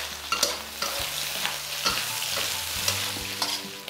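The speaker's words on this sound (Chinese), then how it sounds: "现在先倒入香菇，把香菇的香味给它煸出来。 香味上来后，把腊肠和虾仁给它一起倒进去。" Shiitake mushrooms, Chinese sausage and shrimp sizzle loudly in a hot wok, with steady frying hiss and repeated scraping stir strokes up close.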